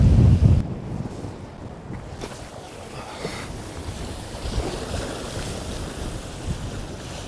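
Strong, relentless wind gusts buffet the microphone on a rough Northumberland shoreline during shore fishing, a loud roaring rush near the start that settles into steady, continuous blustery noise with surf beneath.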